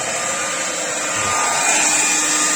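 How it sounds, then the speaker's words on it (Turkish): A hair dryer blows a steady, loud whirring rush over freshly applied silicone sealant, holding an even drone throughout with no talking. "Herhangi bir saç kurutma makinesi olabilir. Sıcak ya da soğuk fark etmez."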